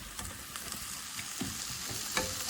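Chicken frying in masala in a pan for a Kerala chicken thoran, a steady close sizzle with soft scraping stirs and occasional louder crackles, no voices.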